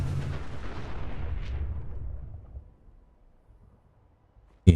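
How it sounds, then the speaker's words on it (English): Gauss rifle fire in the video game Fallout 4: one loud, booming blast that rolls away over a couple of seconds into near silence, with a sharp click right at the end. "That's a Gauss rifle."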